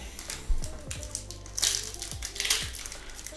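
Foil wrapper of a 2003-04 Upper Deck Honor Roll hockey trading card pack being torn and crinkled open close up, a few sharp rips and rustling bursts with no talking.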